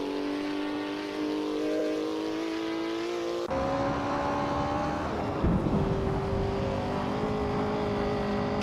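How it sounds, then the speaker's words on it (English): A 1968 Isuzu Bellet GTR engine in a racing video game, droning steadily at high revs with harmonic whine, shifting pitch midway and continuing loud and sustained throughout. "Matrix Co is driving a 1968 Isuzu Bellet GTR."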